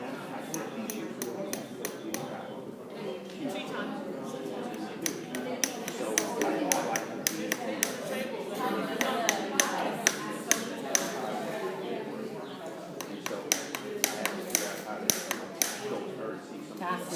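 A farrier's hammer drives nails into a horseshoe, giving sharp metallic taps in irregular bursts over a continuous murmur of people talking nearby.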